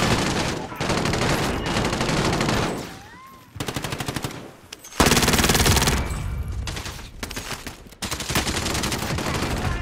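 Video game gunfire, loud sustained automatic bursts broken by brief pauses, with a rising whistling tone in the middle and sharp single shots near the end.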